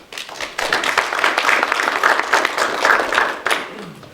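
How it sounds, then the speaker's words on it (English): An audience at a financial aid night applauding, a dense spread of clapping that swells and holds steady for several seconds before tapering off. "I think we've got a round of applause at the beginning"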